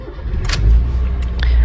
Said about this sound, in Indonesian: baru kita tes starter Mas Bro